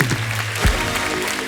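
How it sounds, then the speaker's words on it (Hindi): A studio audience at The Kapil Sharma Show comedy taping applauds: a loud, dense wash of clapping with a low hum or music underneath and one brief thump partway through. "भाग्यश्री जी के लिए एक बार जोरदार ताली हो जाए"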